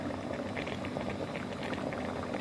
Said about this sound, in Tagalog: kumukulo na po yung adobong manok natin